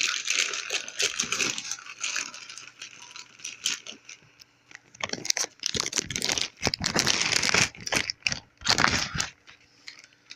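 Factory packing tape peeled and torn off the cardboard box of a Crunch PX1000.2 car amplifier, giving bursts of close crinkling and ripping with short pauses between pulls.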